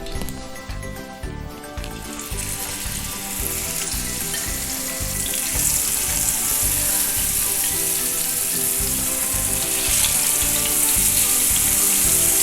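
Seer fish pieces sizzle and crackle in hot oil with curry leaves, a dense, steady frying hiss that builds and grows louder partway through, with faint clinks and no talking.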